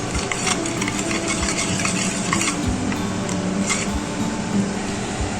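Spices and Kashmiri chilli powder being mixed with water. Continuous wet stirring comes with repeated dull knocks of a spoon against the bowl, close and steady, without talk.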